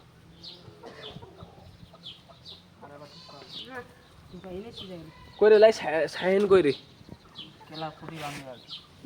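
Chickens cluck and a rooster calls intermittently near and far, with a louder burst of squawking midway, while someone speaks briefly.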